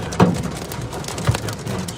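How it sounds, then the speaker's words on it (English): Hail pelting down during a Colorado thunderstorm, a dense steady patter of impacts with a couple of louder thumps, heard close and continuous without talk. "I like hearing the hail."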